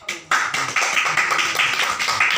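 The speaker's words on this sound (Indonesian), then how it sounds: "Berikan aplaus kepada Guido." Students in a microteaching classroom applaud a classmate after his presentation: dense, steady clapping from the whole group starts abruptly after a brief pause and carries on at an even level, close and fairly loud.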